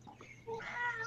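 A cat gives one short, mid-pitched meow that rises and holds briefly over faint indoor background noise.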